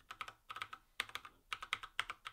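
Quick, clicky mechanical computer keyboard typing heard up close at low volume, bursts of sharp keystrokes with short pauses between, no speech.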